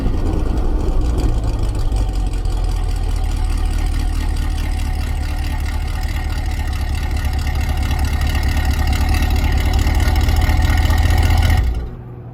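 A 2020 Chevrolet Corvette C8 with a GM Performance muffler exhaust idles steadily, a loud, continuous, low engine rumble up close, no voices, cutting off abruptly near the end.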